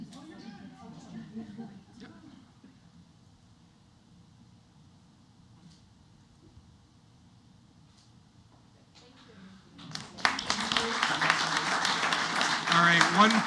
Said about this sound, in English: one final round of applause as we recognize and celebrate these members